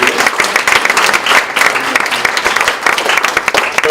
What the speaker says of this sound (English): one more big round of applause for our classified folks